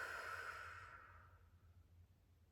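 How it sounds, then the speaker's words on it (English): A single long, soft exhale, a calming breath out during a warm-up before viola or violin practice, breathy and close, fading away over about a second into quiet room tone. "Nice deep breath out."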